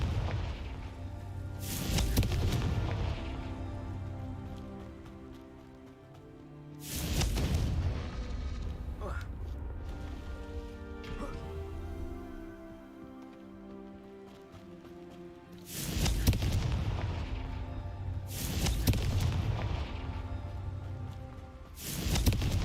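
Repeated booming blasts of the Confringo fire spell in Hogwarts Legacy, about four heavy explosions with rumbling tails, spaced several seconds apart, loud and close amid game music and ambience.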